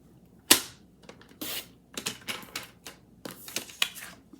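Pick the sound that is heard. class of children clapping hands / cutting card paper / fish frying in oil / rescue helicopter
cutting card paper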